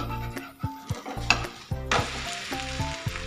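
A Punjabi-style liquid aloo paratha cooks in a pan over a medium flame, with a steady close sizzle broken by clanks and scraping as it is handled and turned.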